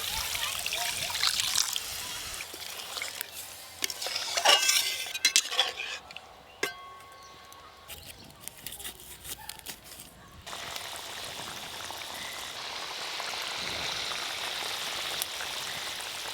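Water is poured into a spiced masala base for a pond tilapia fish curry, trickling and splashing into the pot. Utensils clink and a voice talks now and then, followed by a quieter steady bubbling stretch.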